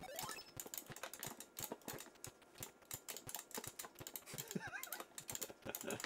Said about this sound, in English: The clicking of the joystick makes it sound so frantic.